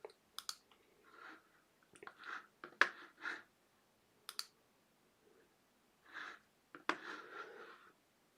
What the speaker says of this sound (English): You can see my mouse clicking.